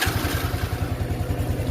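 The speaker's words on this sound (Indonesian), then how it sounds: "kita hidupkan motornya pakai kunci kontak" A Honda Revo motorcycle engine runs just after being started with the ignition key, a close, steady rapid putter with a regular low thumping pulse throughout.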